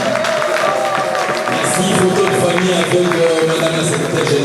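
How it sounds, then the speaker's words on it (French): An audience at a diploma ceremony during a JICA training session in Kinshasa applauds loudly and steadily, with crowd noise and voices mixed through the continuous clapping. "Sur vos applaudissements"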